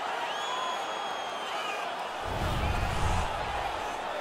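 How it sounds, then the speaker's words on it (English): A home hockey crowd in the NHL 16 video game roars after a fight, a broad cheering swell building in the second half over a steady arena bed, with faint whistling tones above. "The home crowd is ecstatic. They're making all kinds of noise."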